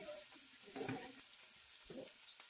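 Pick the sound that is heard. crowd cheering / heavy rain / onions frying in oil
onions frying in oil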